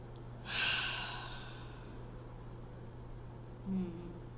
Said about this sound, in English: let's take a deep breath before we leave. In through the nose.